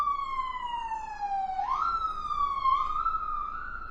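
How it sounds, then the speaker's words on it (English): An ambulance siren wails steadily through the whole stretch, its tone sweeping down and then jumping back up in a clear, fairly close pass with no talking. "there's an ambulance."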